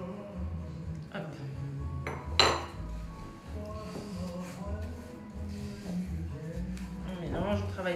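Cookie dough being worked with two sugars in a bowl for chocolate-coffee cookies, with clinking of a utensil against the dish and soft mixing scrapes, while a person talks over it.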